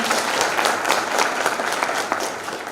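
Audience applause at a ceremonial event, a dense burst of many hands clapping together, loud and steady for a few seconds.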